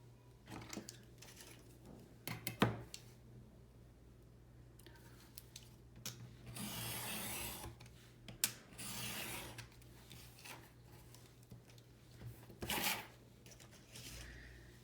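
Paper strips for a mini album being cut close up, a long run of soft rasping slices and rubbing with a few sharp clicks of the blade, steady and quiet.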